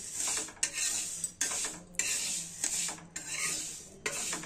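Fenugreek seeds dry-roasted on a hot tawa for lemon pickle, stirred in steady repeated strokes, each a gritty rasping scrape of seeds against the metal pan, close and fairly quiet, with short pauses between strokes.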